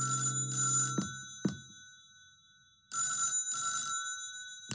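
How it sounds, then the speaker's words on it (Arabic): A telephone rings loudly and close in the Dead Plate video game, with two quick bursts, a near-silent gap, then two more bursts in a double-ring pattern. "يسمع صوت رنين الهاتف"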